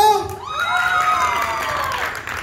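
Crowd at a second-anniversary variety show cheering and applauding, a dense and steady roar of voices with shouts rising over it, loud and close throughout.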